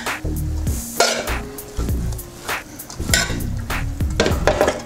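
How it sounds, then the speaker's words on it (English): Vegetable yakisoba is tossed and mixed in a pan, with repeated clinks and scrapes of utensils against the metal, soft sizzling underneath, and steady close-up rhythmic stirring throughout. "And mix it all again."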